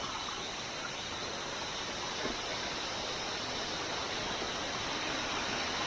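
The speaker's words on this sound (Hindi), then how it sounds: "अच्छा, यहाँ से आ रहा है पानी" Steady broadband rush of mountain water pouring and flowing along a slippery trek trail on the way to Rudranath, continuous and fairly close throughout with no talk.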